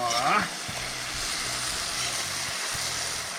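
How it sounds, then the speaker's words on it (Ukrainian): Chicken legs frying in a kazan, with a continuous loud sizzle after a brief opening burst and faint stirring knocks underneath. "обсмажуємо наше м'яско з усіх боків"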